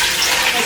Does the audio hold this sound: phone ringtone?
no